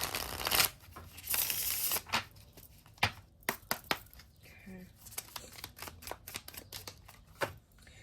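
Tarot cards being shuffled by hand, with riffled bursts of card flutter followed by a series of sharp taps and slaps as the deck is squared, close and fairly quiet.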